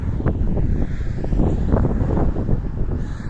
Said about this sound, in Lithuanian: vėjas labai stiprus ir neštų tą telefoną